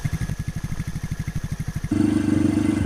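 A motorcycle ridden on a road, its engine pulsing in a fast, even thrum close by, then shifting to a smoother, denser roar near the end.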